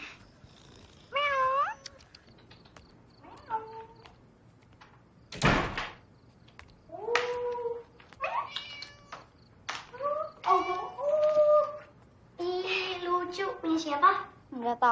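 A cat meows repeatedly in short rising and falling calls spaced across the scene, interrupted by a sharp door sliding sound, with people talking in between.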